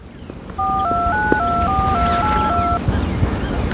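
A run of phone keypad tones, about seven quick beeps in a steady sequence, over rushing outdoor wind noise.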